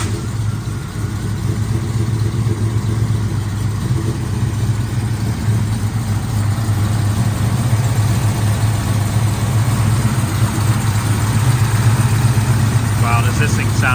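A 1968 Mercury Cougar engine idles steadily after a cold start, a loud, close, even low rumble that holds for the whole stretch and swells slightly near the end.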